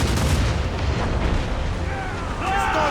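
Ship cannons fire in a naval battle in Assassin's Creed Rogue, a dense continuous rumble of booms and blasts with shouted voices over the din.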